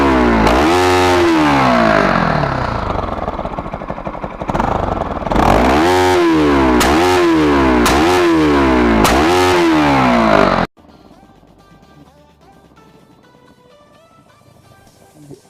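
A Bajaj Pulsar NS200 motorcycle on its stock exhaust is revved hard and close in a series of sharp, rising throttle blips with crackling overrun. It then cuts abruptly to a much quieter background.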